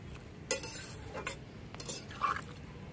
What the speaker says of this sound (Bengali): কচুগুলো সেদ্ধ করার জন্য একটু লবণ দিয়ে দেবো